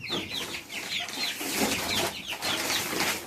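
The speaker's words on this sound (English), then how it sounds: "Alright, little chickens." Young chickens cluck and peep in a steady busy chorus, close by and fairly loud, with repeated short calls layered over one another and no talking.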